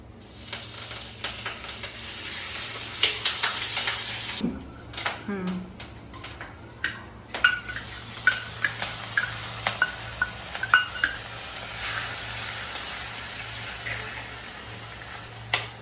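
Hot oil sizzles in a pan with curry leaves for a Satara-style black ghevda amti, steady frying broken by scraping stir strokes and clatters, while voices chat intermittently over it.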